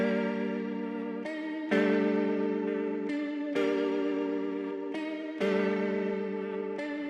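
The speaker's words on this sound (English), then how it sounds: "make the guitar even more detuned" A heavily detuned, wobbly synth guitar plays sustained chords that shift every second or so, with a gliding slide note, washed in effects and echo.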